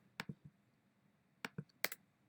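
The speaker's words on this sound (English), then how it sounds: "I'm sure my typing is actually pretty loud," Computer keyboard typing nearby, a few short bursts of crisp key clicks separated by quiet gaps, fairly faint.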